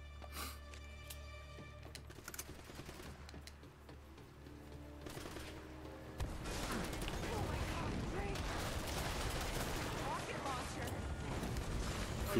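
Rocket launcher fire and rapid gunfire from the video game Uncharted on hard mode, a dense, loud stretch of blasts and clatter that grows heavier partway through and keeps going to the end.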